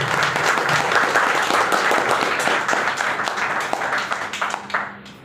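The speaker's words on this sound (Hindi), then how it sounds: "Most welcome Shri SP Pandey sir गुरुदेव के लिए जोरदार तालियां होनी चाहिए।" An audience claps loudly and continuously to welcome a speaker at a health awareness program, dense applause sustained throughout and tapering off near the end.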